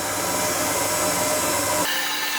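Electric mixer whipping meringue from egg whites at reduced speed while egg yolks are added, a dense steady whirring hum close by that changes tone near the end.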